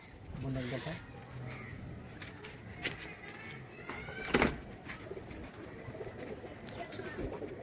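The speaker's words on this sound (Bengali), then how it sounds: "দেখে কবুতরটা" Pigeons coo repeatedly from a rooftop loft of royal pigeons, soft throaty calls close by, with other bird calls around and people talking throughout.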